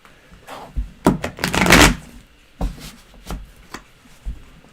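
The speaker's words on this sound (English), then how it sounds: "make me shuffle this big deck all the time" A big deck of tarot cards being shuffled by hand, close-up papery riffles and slaps in uneven bursts, one longer rushing shuffle in the middle, then several quick taps and flicks.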